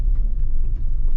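A 2023 GMC Canyon AT4 truck driving off-road, a dense low rumble of engine and tires heard from inside the cab, steady and loud for just over a second.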